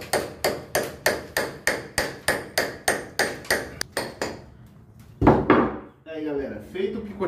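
Rhythmic sharp taps as a plaster wall is chipped and scored before gluing plaster molding, about a dozen even blows close by, then a couple of louder knocks and someone speaking briefly.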